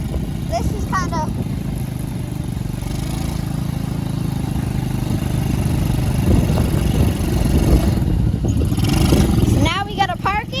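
A motorcycle engine runs steadily during a ride, a continuous close rumble that builds a little louder toward the end, with a person talking over it in places.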